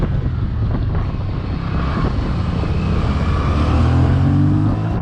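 A Yamaha Tracer 700 motorcycle rides along winding mountain roads around Tenerife, its steady engine drone and heavy wind rush continuous and close throughout, with no talk.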